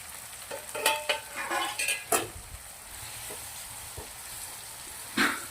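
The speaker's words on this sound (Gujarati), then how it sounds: "મસાલાને તેલના અંદર મસ્ત મજાનો શેકી લેવાનો છે" Soft sizzling of spices (turmeric, salt, crushed cumin) frying in oil in a pan, broken by a few sharp scrapes and clinks of a spoon stirring, close by and fairly quiet.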